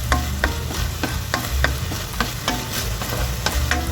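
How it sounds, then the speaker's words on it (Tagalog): Garlic sautéing in the oil left from frying chicken, for a chicken adobo with pineapple, gives a steady close sizzle broken by regular scraping stirs, with no talking. "gigisa natin yung ating bawang dito sa ating pinagprituhan ng ating"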